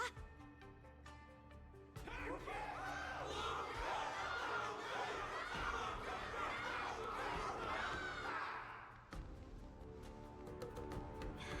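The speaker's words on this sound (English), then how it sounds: "Everyone's cheering for you, Luca." A large crowd cheers and shouts in a tense arena at the end of a wardance battle in Honkai Star Rail. The roar swells loudly over game music, holds, then drops away abruptly.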